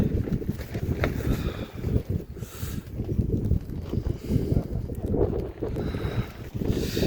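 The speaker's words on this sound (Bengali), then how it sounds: "এত জোরে হাওয়া দিচ্ছে" Strong wind blowing on the Kauri Pass winter mountain trek in Uttarakhand, a loud, continuous rumbling gust buffeting the microphone throughout.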